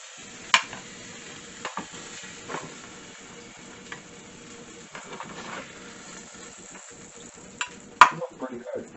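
Steaks browning in a frying pan, three at a time: a soft steady sizzle with intermittent stirring clinks and scrapes, one sharp knock near the end, close and quiet.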